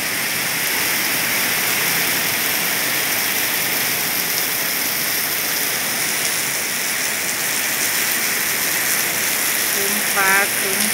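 Steady, dense rain pours down continuously at close range during a storm at a school, with a brief tonal chirp near the end.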